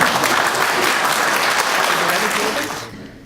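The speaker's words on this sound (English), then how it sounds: "I think this is where I pause for applause." An audience at an education election hustings in Shrewsbury applauds, a dense, steady round of clapping that holds for about three seconds before quickly dying away.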